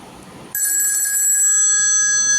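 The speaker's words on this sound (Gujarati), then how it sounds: "ફોન આવી રહ્યો છે, આપણે તેને રિસીવ કરીએ." A telephone starts ringing with an incoming call, a bright, steady electronic ring that begins abruptly and carries on loud and close at a school talk-show event.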